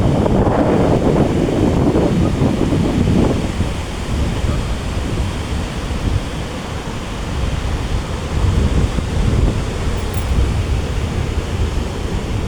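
Sea waves and strong wind at Digha Shankarpur beach, a loud continuous roar of surf with heavy wind buffeting the microphone, rising and falling through the clip.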